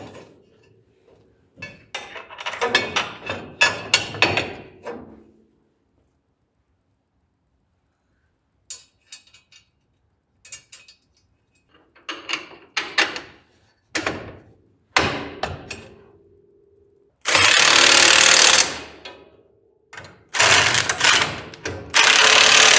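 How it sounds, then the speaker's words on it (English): Bolts come off a 1940 Chevy coupe with scattered ratcheting, clinks and knocks, then loud, harsh bursts of a power tool near the end, close by with quiet gaps between. "get these bolts out of the way real quick"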